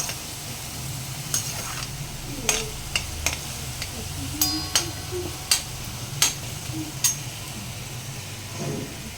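Onions frying toward golden brown in a pan for mushroom butter masala: a low steady sizzle under sharp intermittent clinks and scrapes of a metal spoon against the vessel, close by, no talking.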